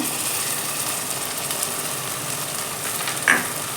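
Green chillies and coriander frying in a pan for coconut milk rice, a steady close sizzle with a brief clink of a utensil near the end.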